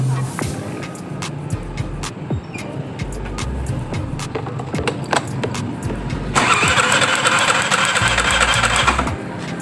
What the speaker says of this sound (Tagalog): susubukan po natin na paandarin kung mag start siya